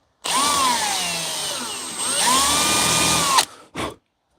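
A power drill whines steadily into a wooden bench slat for about three seconds, pitch dipping and recovering under load, then a short final burst.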